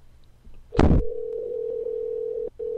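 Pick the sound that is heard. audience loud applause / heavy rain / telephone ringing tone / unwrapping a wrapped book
telephone ringing tone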